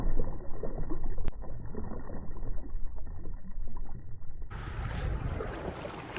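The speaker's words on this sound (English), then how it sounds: "Paddling under the Bethanga bridge." Kayak paddling under Bethanga bridge, with steady water and wind noise throughout, a sharp knock early on and the sound brightening and growing louder near the end as the boat moves out.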